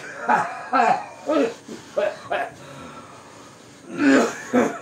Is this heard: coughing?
yes